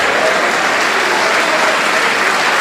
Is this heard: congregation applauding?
yes